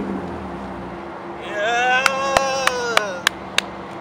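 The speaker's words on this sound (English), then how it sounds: "I'll give it a couple revs for you" A car engine with muffler and resonator deleted idles, then revs up several times, rising and falling in pitch, with sharp pops from the exhaust between the revs. The engine is close by.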